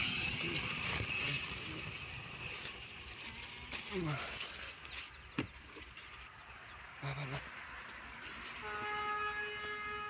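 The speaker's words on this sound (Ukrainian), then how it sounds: "Товарняк." A freight train rolls past in a rural garden setting, a steady broad rumble with rail clatter and a horn-like tone near the end, heard under occasional talk.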